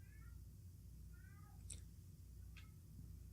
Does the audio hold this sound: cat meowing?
yes